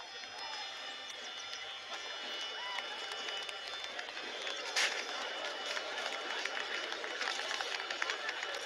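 A large crowd cheers and roars continuously at a steady level in an Unreal Engine demo, with dense overlapping voices and no clear single speaker.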